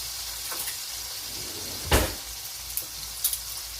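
Steak searing in a pan on high heat gives a low continuous sizzle, broken by a sharp clatter near the middle and a few lighter knocks toward the end.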